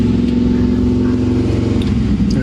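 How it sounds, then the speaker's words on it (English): A car held on a dynamometer at a shop with a triple fuel pump setup, its engine droning loud and steady with a strong low hum throughout, close by. "There's literally a car being dynoed to my left."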